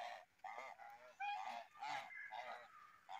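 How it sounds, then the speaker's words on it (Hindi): Village ducks walking in a line honk repeatedly in short, nasal bursts, a steady run of calls at close to middle distance with no talking. "गांव की खूबसूरत बतखें जो लाइन में जा रही थी"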